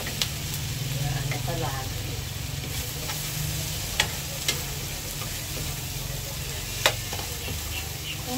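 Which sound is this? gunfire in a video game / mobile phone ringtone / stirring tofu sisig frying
stirring tofu sisig frying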